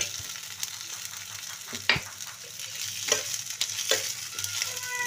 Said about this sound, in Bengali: আমার এইটা ভাজা হয়ে গেছে ফোড়নটা